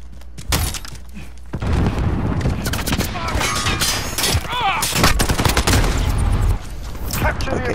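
Dense gunfire fills a Call of Duty Modern Warfare battle from a PP19 Bizon and other weapons: loud bursts and rapid volleys, sharp single cracks, and bits of game dialogue and voices mixed among the shots.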